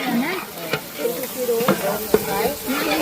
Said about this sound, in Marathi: आपला तेल वगैरे थोडं गरम झालेला आहे मस्त आता मस्त आपला कांदा फ्राय होतोय